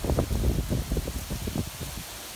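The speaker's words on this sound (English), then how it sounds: "waves of wind on top of the rain" Heavy rain from a severe squall line pelting roads and a roof, with gusting wind layered over it, a dense, loud, steady hiss with rhythmic rumbling surges.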